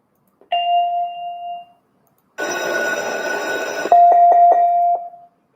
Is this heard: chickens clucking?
no